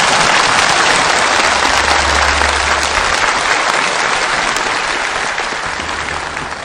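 Loud, dense applause from a large audience at a televised May Day celebration stage show fills the whole stretch as a steady, continuous roar of clapping that fades slightly toward the end.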